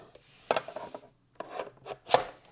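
A plastic smart bird feeder slid onto the small sliders of its fence or wall mounting bracket, giving a few brief scraping rubs and clicks close by, separated by quiet gaps.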